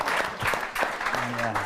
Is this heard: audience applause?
yes